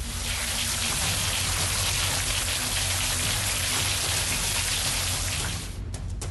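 Steady, heavy rain pouring down in a dense, constant hiss, close and loud, easing slightly at the very end.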